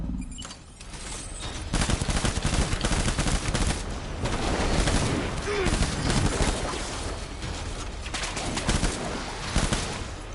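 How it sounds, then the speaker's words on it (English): Shotgun fire rips through a firefight in the video game Death Stranding. Dense, loud bursts of gunfire come in rapid, overlapping volleys throughout, with brief lulls between heavy clusters. "this is a shotgun."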